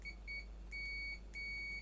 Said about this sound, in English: Let me put the meter into the beeping mode so you can hear it